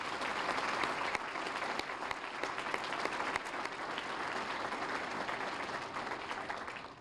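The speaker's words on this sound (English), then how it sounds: "Let's give them one more round of applause" An audience at a university alumni awards ceremony gives a long, sustained round of applause, dense clapping from many hands holding steady before it begins to taper at the end.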